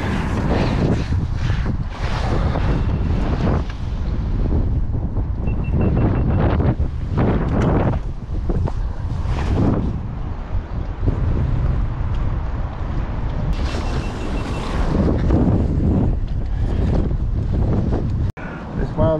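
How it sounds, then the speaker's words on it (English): Strong wind roars and buffets the microphone nonstop at a fishing lake, a loud, rumbling rush with gusty swells throughout. "it's windy when you've had to catch a landing net in the field behind you."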